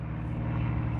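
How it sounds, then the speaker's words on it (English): A propeller plane flies overhead towing a banner for a golf tournament, a steady droning engine hum with strong low harmonics filling the whole moment, loud and continuous with no talk. "we got a plane towing a banner overhead for some golf tournament, evidently"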